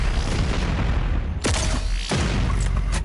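Rapid micro missile shots from the Doom Eternal shooter game, loud dense bursts of gunfire-like pops over a constant roar of combat noise, with sharp blasts near 1.4 and 2.1 seconds.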